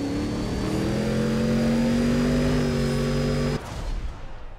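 A Porsche 911 engine in the racing game Need for Speed ProStreet, a loud sustained steady-pitched drone that holds for several seconds and then cuts off abruptly to a quieter rumble.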